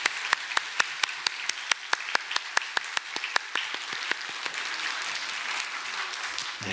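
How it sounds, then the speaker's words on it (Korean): A Sunday church congregation claps in encouragement, starting with a rhythmic series of sharp, evenly spaced unison claps that dissolve into a looser, steady ripple of applause. "여러분 격려의 박수를 크게 해주시기 바랍니다."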